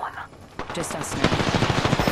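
Rapid gunfire in a battle royale video game: a burst of broadband shots builds into a dense, steady string of rounds in the second half, loud and close, with faint game noise underneath.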